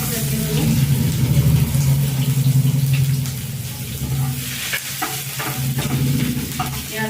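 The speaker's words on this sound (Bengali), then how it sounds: "পেঁয়াজটা মোটামুটি ভাজা হয়ে গেছে" Onion frying in a pan while a paratha-style dish is prepared in a village kitchen, giving a steady close sizzle with stirring and scraping throughout.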